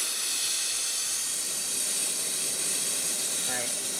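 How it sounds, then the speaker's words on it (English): Air compressor running during brake fluid bleeding on a Cadillac Deville, a steady loud hiss that stays constant throughout. "It's going to be a little bit of noise because of my compressor"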